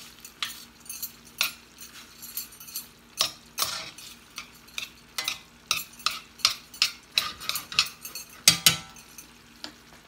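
Teriyaki chicken and broccoli being stirred in a pan, with a run of scraping, clinking utensil strokes against the metal over a steady sizzle, repeating in an uneven rhythm throughout.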